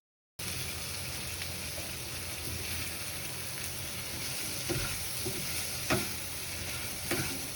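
Elephant foot yam sizzles and fries in a pan, with a steady close hiss and a few soft stirring scrapes and taps as water is added.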